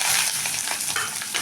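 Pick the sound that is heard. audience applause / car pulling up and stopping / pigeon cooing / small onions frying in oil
small onions frying in oil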